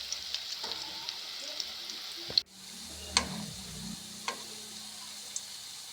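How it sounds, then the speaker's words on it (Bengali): Pakoras deep fry in hot oil with a steady hiss and crackle, while a spatula clicks and clacks sharply against the pan a few times as they are turned. "লাল করে ভেজে নেব, উল্টো পাল্টে ভেজে নিই"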